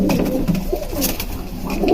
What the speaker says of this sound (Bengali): আর একটা বড় কবুতর আমি কালেক্ট করেছি